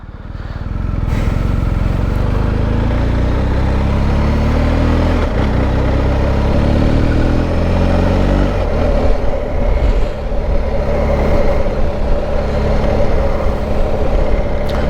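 A BMW R 1250 GS motorcycle engine drones steadily while riding, with a continuous loud rumble and shifting pitch, plus wind and road noise throughout, alone without talk.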